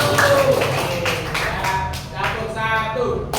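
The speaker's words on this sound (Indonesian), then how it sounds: "Tepuk tangan buat kita semuanya" A classroom group claps during a lesson, with short bursts of hand claps landing at intervals amid voices and general room chatter.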